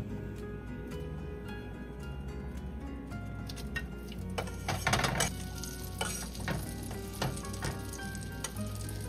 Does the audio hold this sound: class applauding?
no